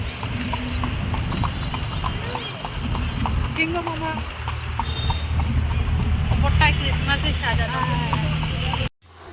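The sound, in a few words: horse-drawn carriage, hooves clip-clopping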